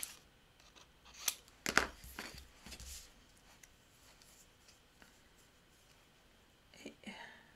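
Scissors cutting paper at a bevel while making an ink storage cabinet, a few quick crisp snips close up, then quiet with a faint rustle near the end.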